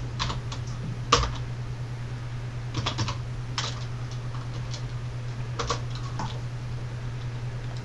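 Scattered clicks of typing on a computer keyboard, light irregular taps in small bursts over a steady low electrical hum, close and quiet, with no talking.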